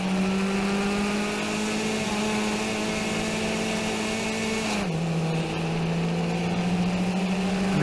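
Race cars idle and crawl as a pack through the keyhole corner before the start of a 2019 Round 3 race, a steady close engine drone with one shift in pitch partway through, no talk.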